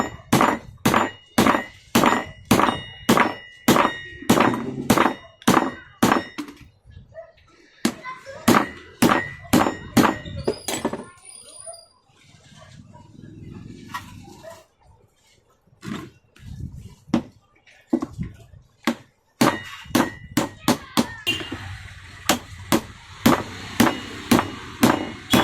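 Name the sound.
hammering bearing onto cloth cutting machine armature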